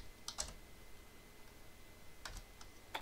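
A computer keyboard is typed on during an OpenWRT KMS service setup, a few faint, close clicks in two short bursts, quiet and without talk.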